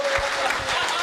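A packed audience at a Haryanvi comic poetry recital breaks into brief, steady clapping, a close, even patter of many hands.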